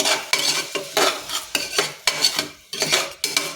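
Repeated scraping and clinking of a utensil stirring chilli powder and turmeric in a pan, in short bursts with a faint sizzle underneath, close and fairly loud.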